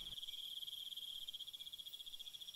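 A katydid, or bush cricket, trills nonstop in a fast, even pulsing buzz, faint but clear and alone against a quiet night background.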